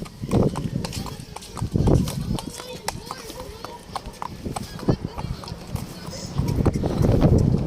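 Rhythmic hoof clip-clops of a horse trotting, mixed with voices talking and a rumbling vehicle or boat engine in the background.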